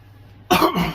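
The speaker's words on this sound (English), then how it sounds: "Sorry about the cough." A single sharp cough, close and fairly loud, rising suddenly out of near silence halfway through and trailing off briefly.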